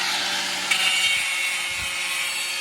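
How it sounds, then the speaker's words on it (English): An angle grinder working a piece of steel meant as a support, producing a loud, continuous high-pitched grinding hiss at close range with slight dips in pressure, steady for the whole stretch. "Let him grind this piece of metal he's gonna use as a support."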